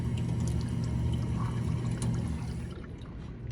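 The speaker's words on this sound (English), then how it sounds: "I remember these drinking fountains, and they still work." Water running from an old school drinking fountain in a hallway, a steady close pouring splash that thins out near the end.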